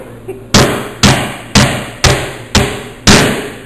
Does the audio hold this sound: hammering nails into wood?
yes